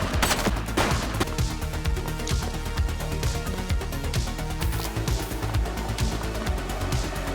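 Sustained gunfire rattles through a shootout in The Precinct video game. Rapid, loud shots come in quick overlapping bursts for several seconds and stay close and steady.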